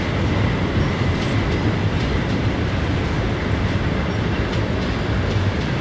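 A Richmond, Fredericksburg, and Potomac diesel passenger train rolls past with a loud, continuous low rumble and rail noise, steady and close throughout with no talking.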